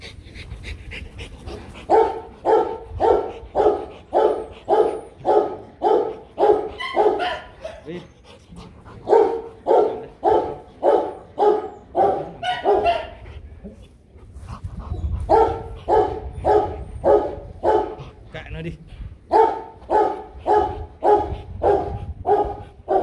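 A pair of Rottweilers pant in fast, rhythmic bursts close to the microphone, repeated in long runs broken by short pauses, with occasional yips and barks.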